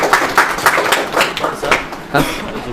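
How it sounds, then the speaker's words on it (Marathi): An audience at a quiz session in a Buldhana study hall applauds with a burst of scattered, rhythmic claps that rise and fall, and voices mix in. "सरांसाठी जोरदार टाळ्या होऊन जाऊ द्या"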